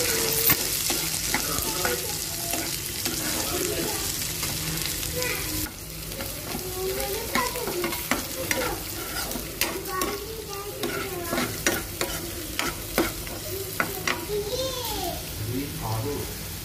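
Carrot pieces and peas frying in a pan, heard as a steady sizzle with stirring clinks and scrapes throughout, under a voice talking.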